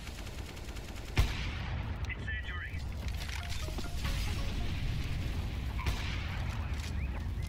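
Gunfire in the tactical shooter CS:GO: a sharp shot cracks out early, then the game noise carries on as a steady rumble while someone comments in French.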